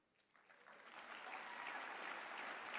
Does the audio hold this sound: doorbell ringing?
no